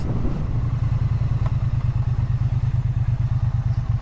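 A 2022 Triumph Bonneville T100 900cc motorcycle engine idles nearby with a steady, low, pulsing rumble and no talking.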